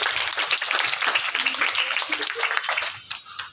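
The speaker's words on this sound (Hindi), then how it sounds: "तालियां।" Applause and clapping from a crowd at a school award distribution ceremony, greeting a young girl receiving a prize for correct English spelling; fairly steady for about three seconds, then tapering off into scattered claps.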